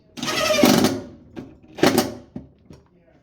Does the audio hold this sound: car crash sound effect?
no